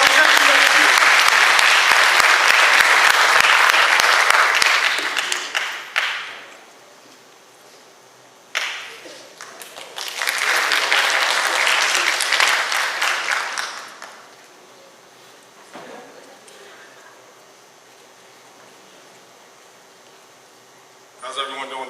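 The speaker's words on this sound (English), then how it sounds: "give yourselves a round of applause." An indoor audience bursts into loud, dense applause that fades after several seconds, then swells again in a second round before tapering off, with a short spoken interjection between.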